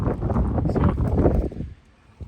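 Strong gusty wind roars and buffets outdoors on a farm for over a second, then suddenly drops to a quieter lull.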